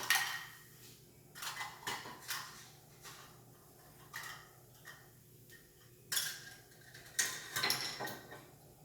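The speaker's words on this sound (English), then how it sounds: "And put my skillet on the stove." A skillet is set onto a stove with clanks and metallic scrapes, a series of irregular close knocks and rattles over a faint steady hum, and no one speaking.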